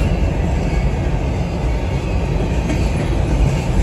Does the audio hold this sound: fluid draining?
no